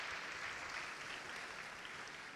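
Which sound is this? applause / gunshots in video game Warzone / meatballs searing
applause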